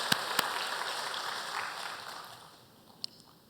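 A church congregation applauds during a Sunday service, a dense patter of clapping that fades out over a few seconds, leaving a few isolated claps at the end.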